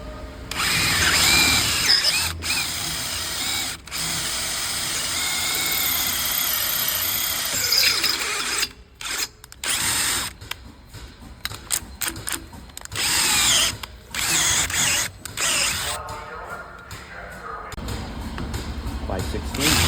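A power drill bores out seized differential cover bolts on a car, whining and squealing close up in long bursts that break into choppy stop-start pulses, with a voice speaking at times.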